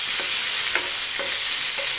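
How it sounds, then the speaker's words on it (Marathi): Garlic, onion, red chili and tomato sauté in hot oil for a chutney, a steady soft sizzle with a spoon stirring the pan at regular intervals, about four strokes in two seconds, with no voices. "तेलात परतून घेऊया।"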